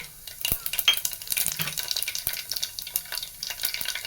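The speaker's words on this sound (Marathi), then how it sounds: "आपले तेल गरम झाले आता आपण मसाले टाकून घेऊया मी अर्धा चमचा मोहरी टाकून घेते अर्धा चमचा जिरे" Mustard seeds and cumin crackling in hot oil: soft, scattered popping and light sizzle at moderate distance, with small sharp ticks spread across the stretch and no voices.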